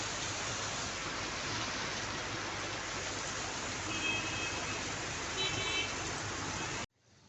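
Monsoon rain pours steadily in Chiplun with a roadside vehicle pulled over, a constant hiss of falling drops at moderate level with faint tonal beeps midway before it cuts off abruptly near the end.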